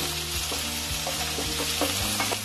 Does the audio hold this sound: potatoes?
yes